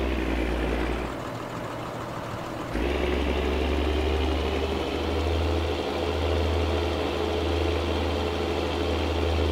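A new tractor's engine in Farming Simulator 19 runs with a steady low drone, briefly dropping lower for a couple of seconds before resuming its constant idle-like hum, with no talking.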